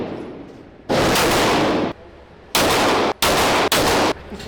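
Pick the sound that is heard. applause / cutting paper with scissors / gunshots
gunshots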